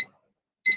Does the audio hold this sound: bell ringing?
no